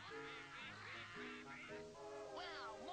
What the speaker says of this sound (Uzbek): Buni qarang, o'rdaklar ko'payib ketishibdi-ku.